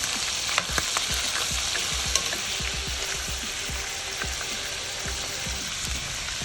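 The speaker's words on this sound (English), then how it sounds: "I drizzle the steak with the melted butter and all of the essence that are still at the bottom of the pan." Butterflied filet mignon sizzles steadily in melted butter in a pan, a dense continuous crackle close by with scattered small pops and spits throughout.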